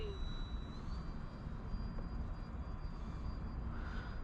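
A small E-flite Valiant radio-controlled model airplane whines steadily overhead, its pitch shifting slightly as it passes, continuous with no talking.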